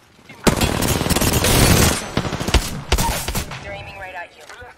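Rapid automatic gunfire from the video game PUBG crackles in dense, loud bursts, sustained for a couple of seconds and then breaking into scattered shots and quieter game effects.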